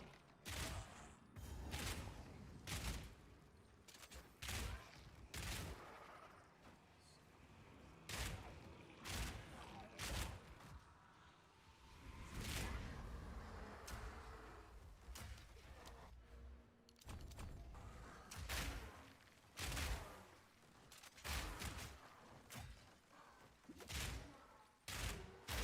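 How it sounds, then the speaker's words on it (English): Auto rifle fire in Path of Exile 2 sounds as a steady run of sharp, evenly spaced shots through a long stretch of combat, with game ambience underneath and a voice talking now and then. "Love the auto rifle."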